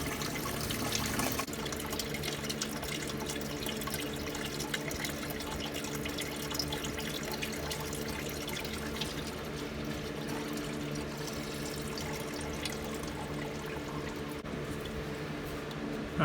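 Coolant drains from a Porsche Boxster 986 engine during a water pump and thermostat change, a continuous pouring and splashing of liquid that stays steady and fairly close with a few drip accents.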